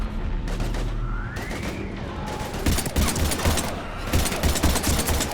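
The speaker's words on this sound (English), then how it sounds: "We're taking heavy fire." Gunfire in Mass Effect 3, a heavy, sustained fusillade of rapid shots and bursts that runs throughout, loud and close, with faint battle noise mixed in.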